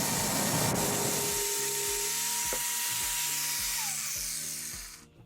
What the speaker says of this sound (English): So I purchased this band file belt sander.